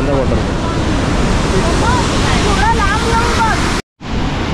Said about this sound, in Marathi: नाव ह्याचं वॉटरफॉलचं रंधा वॉटरफॉल.